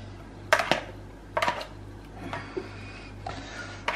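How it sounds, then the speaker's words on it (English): Orzo with chopped fresh chives and parsley stirred quickly in a pan, a few distinct clinks and scrapes of a utensil against metal over a low steady hum. "Just a quick stir."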